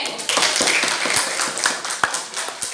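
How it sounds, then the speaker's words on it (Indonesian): A classroom during a maths lesson breaks into brief applause for a student, a quick patter of scattered hand claps from several people lasting only a couple of seconds. "Beri aplaus tuh Ade"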